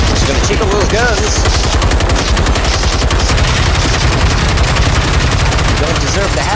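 Rapid automatic gunfire from a robot tank in the video game Generation Zero, loud continuous bursts of machine-gun shots with booming low impacts and faint speech underneath.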